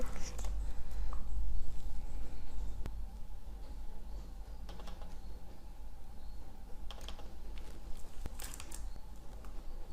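Computer keyboard typing with scattered key clicks and sharper presses like an enter key, moderately close, over a steady low hum in a hotel front-desk software setting; no talking.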